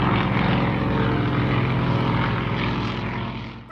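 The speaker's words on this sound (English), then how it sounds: "Time to board that plane for our next city." A propeller aeroplane engine drones loudly and steadily, a dense mechanical roar that fades slightly at the end with no voices.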